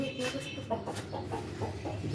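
Hens cluck in short, repeated bursts close by, a few soft calls overlapping over a couple of seconds.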